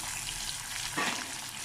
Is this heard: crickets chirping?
no